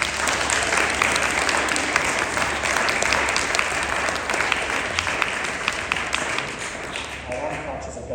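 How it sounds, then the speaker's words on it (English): An audience at a Royal College of Physicians of Ireland conferring ceremony claps steadily in sustained, dense applause that carries on for several seconds before thinning out near the end. "So I think a round of applause for the group of people sitting at the back."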